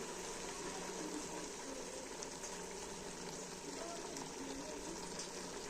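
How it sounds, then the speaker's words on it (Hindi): Mustard oil poured into a pot of beef curry gives a steady, even hiss and gush, quiet and continuous throughout, with no pauses or voices. "अब मैं इसमें डालूंगी सरसों का तेल"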